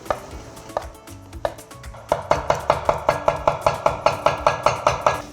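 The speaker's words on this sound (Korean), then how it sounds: "재료 손질할 건데 모든 재료는 채를 썰어서 준비하시면 돼요. 일단 새송이" A knife cuts king oyster mushrooms into thin strips on a cutting board, a few scattered chops giving way to a fast, steady run of sharp, close taps.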